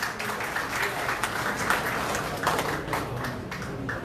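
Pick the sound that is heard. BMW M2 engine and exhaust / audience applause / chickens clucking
audience applause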